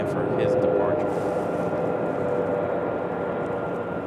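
An Airbus A321 airliner taxis and turns around at Raleigh-Durham International Airport, its steady jet-engine roar holding throughout with a faint whine, heard from a distance.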